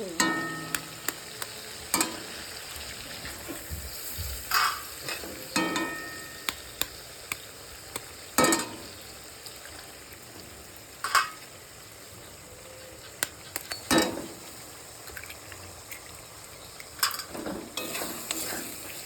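Eggs fry in oil in a pan for a dhaba-style egg tarka, a steady sizzle broken by repeated sharp scrapes and knocks of a stirring utensil, close and fairly quiet, with no talking.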